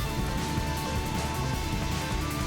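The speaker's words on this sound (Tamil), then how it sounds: "நல்ல மழை பெய்யுது எங்கள் ஊர்லலாம்" Rain falling steadily in a village, a continuous hiss of drops on surfaces at low level with no break, alongside a faint steady hum in a home kitchen.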